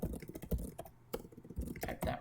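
Quick, uneven clatter of keys on a computer keyboard while entering robot driver-control code, with dense bursts of taps broken by short pauses, close and fairly quiet, and no talking.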